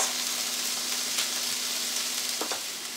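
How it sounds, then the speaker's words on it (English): Onions sauté gently in a pan, a soft continuous sizzle and crackle with a faint steady hum and a couple of small clinks, no talking. "So we're just going to let that saute now for 5 to 10 minutes"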